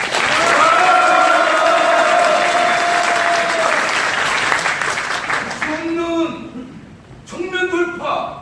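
Loud, sustained applause from a large audience at a Korean labor union leadership election rally in Incheon, with clapping thinning out near the end and a voice over a loudspeaker beginning to speak.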